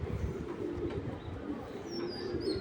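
Low, soft cooing of racing pigeons murmurs steadily through the clip over a dull background rumble, with a few faint higher chirps.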